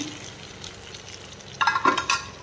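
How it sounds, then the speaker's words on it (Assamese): Palak chicken curry frying in oil in a pan, giving a soft low sizzle that swells into a brief louder burst of crackling and stirring near the end. "এয়া মোৰ 10-15 মিনিট মানে হৈ গ'ল ভাজিয়া। আৰু তেল ওলাইছে এয়া চাৰিওফালৰ পৰা।"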